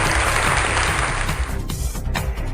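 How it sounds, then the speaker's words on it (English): A studio game show audience applauds a contestant, dense continuous clapping at steady loudness throughout, with no speech. "Audience, can you clap your hands together for Seamus"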